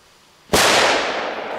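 A loud firecracker explodes outdoors with a sharp blast, then a long crackling, hissing tail that slowly fades, heard alone without talk.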